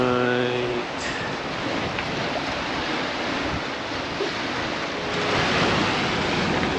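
Wind and waves at sea on a chilly, blustery voyage from Boston toward Nova Scotia, a loud continuous roar of wind buffeting the microphone over rushing water, with a brief tonal hum at the start.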